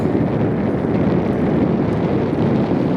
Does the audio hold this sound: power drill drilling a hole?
no